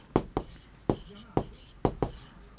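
Numbers are chalked on a classroom board in a series of sharp, close taps and short strokes, grouped in pairs with brief gaps between them.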